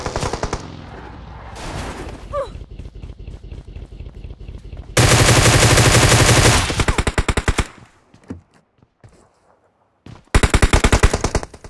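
PUBG Mobile gunfire: rapid automatic bursts crackling in dense strings, with pauses between volleys and two long sustained loud bursts, close and punchy, alone without talk.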